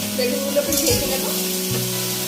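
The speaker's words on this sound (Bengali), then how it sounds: "বেগুনগুলোকে ভেজে নেব।" Pieces of aubergine sizzle in hot oil with potatoes that have already been fried red in a pan. A steady, close frying hiss carries a few scraping stir sounds.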